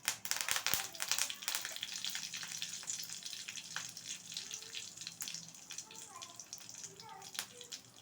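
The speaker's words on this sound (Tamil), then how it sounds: "கடுகு பொரிஞ்சதும் கொஞ்சமாக கருவேப்பிலை சேர்த்துக்கலாம்." Curry leaves dropped into hot oil with popping mustard seeds sizzle and spit in a pan, a busy crackle with sharp pops and clinks while a person talks over it.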